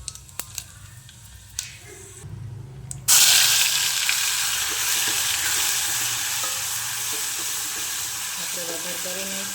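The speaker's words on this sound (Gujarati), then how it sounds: "વઘાર કરી નાખ્યો છે। મસ્ત મજાનો વઘાર થઈ ગયો" Garam masala hits hot oil while tempering for Gujarati dal dhokli, breaking into a loud, close, continuous sizzle after a few quiet seconds of faint kitchen clatter.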